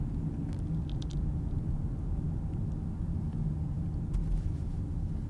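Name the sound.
car driving through New London, Connecticut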